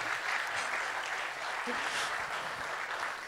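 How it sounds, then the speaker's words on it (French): Steady applause from an audience, a dense wash of clapping that holds evenly for a few seconds with no voices standing out. "On peut l'applaudir, vraiment."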